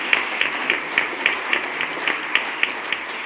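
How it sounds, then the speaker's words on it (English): A small audience at a school board meeting claps for the principals, a sparse, fairly even patter of hands heard from a little distance with no talking. "So if you'd like to applaud the principals"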